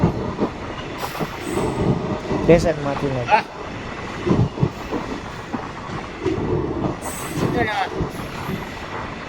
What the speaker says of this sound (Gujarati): એટલે કે સ્પીડ પકડી લીધી છે સ્ટેશનમાંથી.